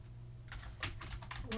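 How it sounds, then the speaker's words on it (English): Typing on a computer keyboard, a short burst of close, distinct key clicks in uneven rhythm over a faint low hum. "So then I just begin typing May Eve Thorpe"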